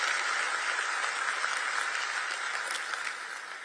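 A crowd at the World Cup draw applauds steadily for Andrea Bocelli, a dense, even wash of clapping that holds throughout and eases slightly at the end.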